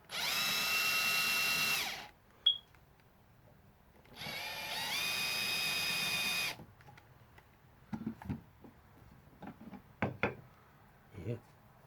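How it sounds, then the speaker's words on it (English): A power drill bores into plywood in two loud sustained bursts, followed by scattered knocks and handling clicks as people talk quietly nearby. "when you're drilling into plywood"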